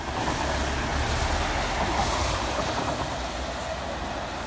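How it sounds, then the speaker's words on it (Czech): A train rolls through the city centre of Brno in a continuous loud, even rumble with a faint rhythmic clatter, heard close by with no talking. "Čekáme na vlak, který projede přímo centrem města."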